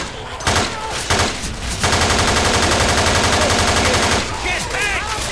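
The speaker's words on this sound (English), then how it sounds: "Hey, let's stop shooting." Rapid automatic gunfire rattles in a long, evenly spaced burst after a few shorter volleys, loud and close, with voices shouting around it.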